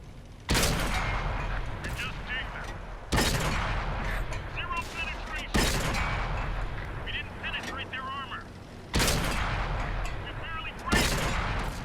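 Tank cannon fire from the console game World of Tanks, a Type T-34 firing five heavy booming shots spaced a few seconds apart, each followed by a rumbling tail, with someone talking between them.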